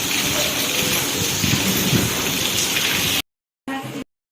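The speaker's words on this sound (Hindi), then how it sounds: "जोरे वर्षा होची" Heavy rain falls in a steady dense hiss during cyclone weather, loud and constant for about three seconds, then cuts out, returning briefly after a short silence.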